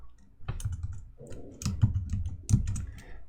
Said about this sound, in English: So we're going to go ahead and we're going to just type them in.